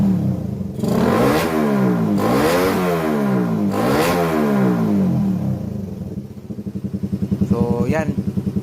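A Suzuki Raider motorcycle with a stock carburetor and a 51mm open pipe revs hard several times, each throttle blip rising and falling loudly up close, then drops to a rough, pulsing idle; a voice talks faintly underneath.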